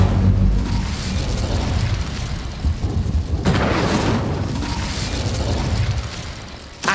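A blast of the Incendio fire spell in the Hogwarts Legacy video game: a loud, booming, crackling burst that surges twice and stays dense and roaring for several seconds before easing off.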